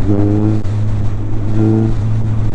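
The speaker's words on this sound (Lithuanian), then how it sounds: "Motociklas gavosi žiauriai aštrus ir netgi važiuojant, kaip dabar, 3 pavara, aš jeigu suktelnu rankenėlę biškį, galit pažiūrėti" A Suzuki GSF1200 motorcycle with a modified clutch accelerating in third gear as the throttle is twisted, a loud close engine note that climbs in pitch twice in quick surges.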